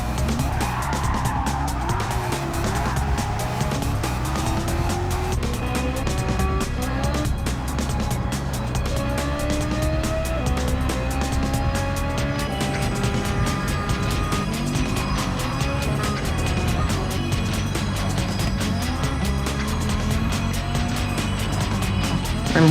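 A nearly 1,000-horsepower race car in a racing video game roars continuously at high revs, with rising and falling engine pitch through gear changes, loud and close, joined by other cars' engines and tire noise.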